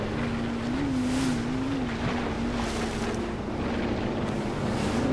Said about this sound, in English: You guys gonna get in the boat?